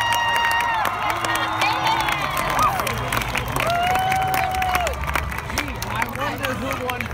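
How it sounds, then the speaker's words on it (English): Audience at a regional marching band qualifier applauds and cheers for the performing band members, a loud continuous mix of clapping, shouts and crowd babble with a voice over the public address. "let's have a great round of applause for every band member who performed this afternoon"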